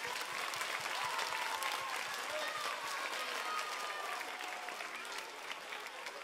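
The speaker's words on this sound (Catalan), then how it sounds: "Un aplaudiment per vosaltres." A theatre audience at a children's cantata performance in Mataró's Teatre Monumental applauds in a sustained, even wave of clapping, with a few raised voices and cheers among the crowd.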